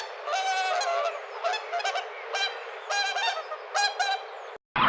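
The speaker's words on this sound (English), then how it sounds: "Swan." A swan calls in a series of about six loud, nasal honks, close and clear, spaced roughly evenly with short gaps between them and no other sounds.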